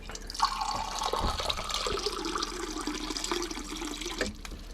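A cup of water is poured into a pot of German goulash, a continuous splashing, gurgling pour lasting several seconds, close and fairly loud, ending abruptly.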